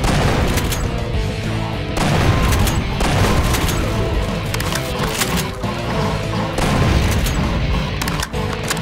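Heavy, continuous gunfire in the shooter game Doom 2 with the Project Brutality mod, loud rapid bursts and booming blasts filling the whole stretch with barely a pause.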